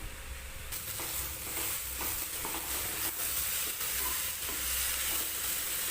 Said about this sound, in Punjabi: ਪਿਆਜ਼ ਆਪਣੇ ਭੁੱਜ ਗਏ ਨੇ ਜੀ